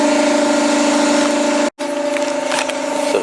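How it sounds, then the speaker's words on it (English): Compressed air blasting steadily at close range over the engine of a Chevy Cobalt during an oil change, a loud continuous hiss with tonal whine, briefly cut off before resuming. "Let's blow her motor off."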